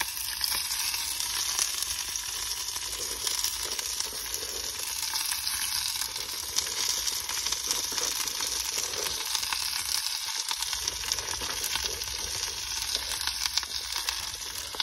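Food fries in hot oil over a small cooking fire inside a cave shelter, a steady dense sizzle and crackle that runs unbroken and close throughout.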